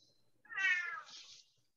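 A cat gives one clear, drawn-out meow, close and alone, rising then trailing off into a softer tail.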